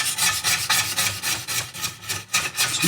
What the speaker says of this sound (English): I'm going to start with the scraper that's provided. It does say it's non-scratch.